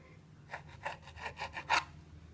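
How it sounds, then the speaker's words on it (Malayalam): Knife slicing the crusts off flattened bread slices, a faint series of about seven soft rasping strokes close by. "ഇതുപോലെ 4 സൈഡും കട്ട് ചെയ്ത് മാറ്റുക"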